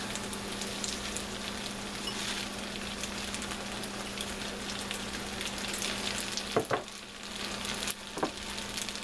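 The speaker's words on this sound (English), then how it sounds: "So now I'm going to add in my spinach." Spinach going into a pot of one-pot chicken pasta cooked down over medium heat, a steady close sizzle and crackle with a couple of brief clunks and rustles near the end, no talking.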